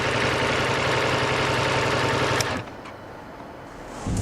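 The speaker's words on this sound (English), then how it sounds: "the engine sounds good" A big adventure motorcycle engine idles with a steady, loud rumble that suddenly drops to a much quieter idle about halfway through, with no talking.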